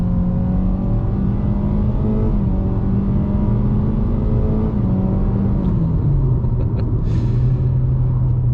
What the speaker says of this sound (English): We'll get it up to 25 miles per hour, then hit the throttle as much as we can, and we'll see how we can get up to 60.